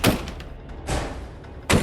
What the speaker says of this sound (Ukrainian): Вона била й била у двері.